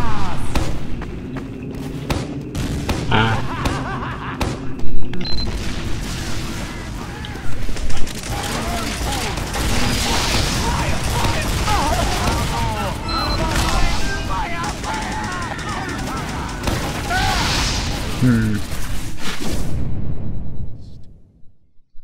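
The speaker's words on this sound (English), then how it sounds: "that's the sticky grenade launcher" Repeated thumping launches and explosions from the sticky grenade launcher in Team Fortress 2, loud and dense over a busy battle din, with occasional voices mixed in.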